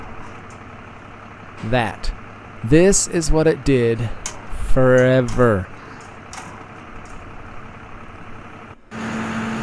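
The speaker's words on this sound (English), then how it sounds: "So the diesel sounds you hear, while beautiful and Cummins, are not on the right vehicle." A 1993 one-ton Cummins diesel truck, hooked up as a jumper vehicle, idles with a low, steady rumble. Someone talks close over the engine, and the engine tone shifts near the end.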